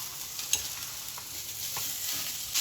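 Washed green gram sprouts sizzle in a hot pan with oil, salt and seasoning while a spoon stirs them, a steady bright frying hiss broken by a few clinks and scrapes, with no talk.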